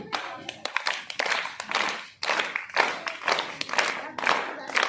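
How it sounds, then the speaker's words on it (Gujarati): Hands clap in a children's play-and-exercise game, bursts of sharp claps in uneven clusters with a short pause partway through, close and fairly loud, mixed with faint voices and movement. "હું તાળી પાડું"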